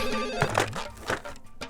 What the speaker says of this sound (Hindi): अरे फोन बज रहा है।